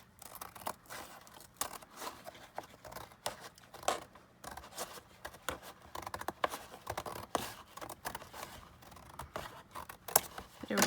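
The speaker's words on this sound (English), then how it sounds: "This is cardboard scissors." Scissors meant for cardboard snip through cardboard during a recycling craft project, with repeated crisp cuts and scraping crunches in an irregular rhythm over about eleven seconds, up close and without talk.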